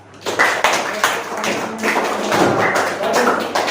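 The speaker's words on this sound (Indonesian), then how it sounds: "Kasih aplaus untuk kawan kita" A classroom applauds a classmate, a short burst of clapping and tapping from a group lasting a few seconds, fairly loud and close, with voices mixed in underneath.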